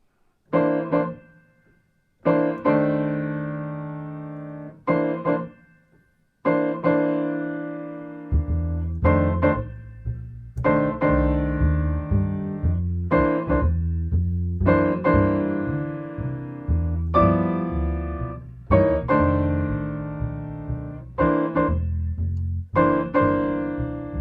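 Piano blues chords in C struck in a slow rhythmic pattern, a low bass line entering partway through, sustained harmonies ringing between strikes, played alone without talk.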